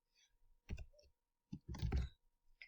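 A few quiet clicks of a computer keyboard as an email address is typed, in two short bursts separated by a pause.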